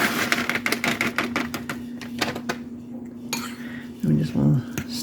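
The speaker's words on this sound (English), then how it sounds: "We just want to stir that in." Monterey Jack cheese being stirred into a mixture in a dish, with a rapid series of scraping clinks of a utensil against the bowl, loud and close, then a pause and faint murmured speech.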